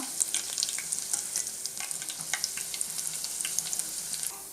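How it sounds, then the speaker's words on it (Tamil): Garlic fries in hot oil for kara boondi made from ration-shop dal, giving a close, continuous crackling sizzle with many small pops and occasional stirring scrapes. "இந்த அளவுக்கு நம்ம பூண்டு பொரித்து எடுத்துடலாம்"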